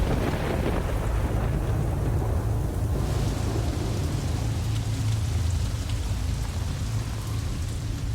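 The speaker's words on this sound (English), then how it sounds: "After 8 days of solid rain." Steady, dense rain pours down without pause, a broad hiss with low rumbling beneath, continuous and fairly loud throughout.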